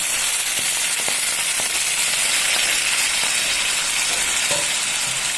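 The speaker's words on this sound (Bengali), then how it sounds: "মশলার থেকে তেল বেরিয়ে এলে এরপর দিয়ে দেব পরিমাণ মতন জল" Water poured into hot oil and cooked spices for a Bengali rui fish head ghonto erupts into a loud, dense, continuous sizzle and spatter right up close, steady for the whole stretch with no voices.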